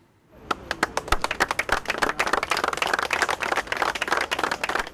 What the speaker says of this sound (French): Une minute d'applaudissements pour soutenir la famille de Yohan